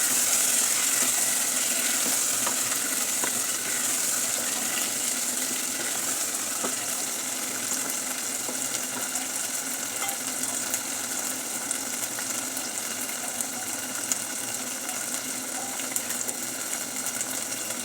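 Potatoes frying with spices in an oiled pan, stirred steadily, give a continuous bright sizzle with faint scraping, close and even throughout with no talking.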